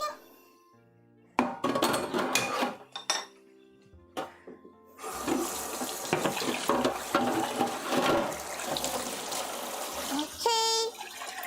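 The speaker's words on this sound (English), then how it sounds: "Drain it, then add, put cold water through it to stop it from cooking." Cooked pasta is drained in a kitchen sink and then rinsed under running cold water, giving a steady rushing splash with clinks of pot and dishes, while people talk over it.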